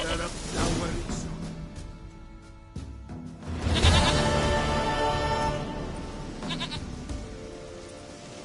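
Goat bleats from a video game, heard among game audio and music, with a game character's voice speaking over parts of it; the bleats come in short bursts rather than standing alone.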